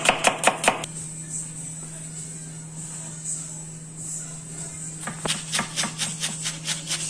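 A knife chops onion on a board while tuna is prepared for a sandwich: a quick run of sharp, even knife taps opens, a steady background hum follows, then another rhythmic burst of close chopping strokes.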